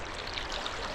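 River water rushes and burbles steadily at close range during a paddling run, forming a broad, continuous wash of flowing water with no voices.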